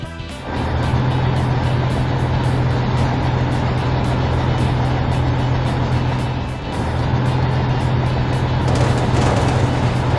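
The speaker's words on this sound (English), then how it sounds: "Runaway truck!" A runaway cartoon delivery truck with failed brakes speeds downhill, its engine holding a loud, steady drone with a brief dip midway and no talking over it.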